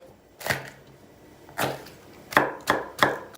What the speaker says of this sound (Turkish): 3 diş sarımsak doğruyor soğanın içine.